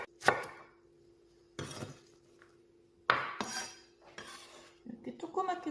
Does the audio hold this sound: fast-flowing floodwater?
no